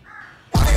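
A crow gives one loud, close, harsh caw that starts abruptly after a brief moment of quiet background noise.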